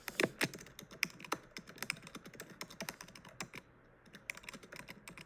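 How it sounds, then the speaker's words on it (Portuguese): Fast typing on a computer keyboard, a close, crisp run of irregular clicks and key taps with short pauses, heard alone without voices. "Aqui sou eu digitando, tá? Por isso que eu fico corrigindo aqui, sou eu digitando."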